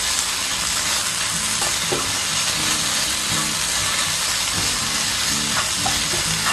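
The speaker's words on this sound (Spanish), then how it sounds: "Vamos a dejar que se dore bien para que se cocine bien la cáscara" Potato peels fry steadily in a hot pan, giving a continuous close sizzle with occasional scraping stirs and clinks, with no voices over it.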